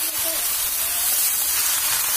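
Vegetables tipped into a hot pan with fried dried fish and crushed green chilies burst into a loud, continuous steamy sizzle and hiss that holds evenly throughout.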